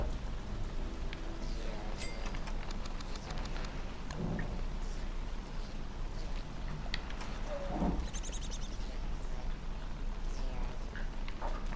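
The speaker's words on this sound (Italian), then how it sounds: "Le piogge stanno diventando sempre più forti." Steady rain falls in the Don't Starve video game, a continuous dense hiss running the whole length, with occasional soft pattering and faint game sounds above it.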